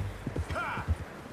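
Horse hooves clip-clop in Red Dead Redemption 2, a few uneven thuds over about a second, under speech.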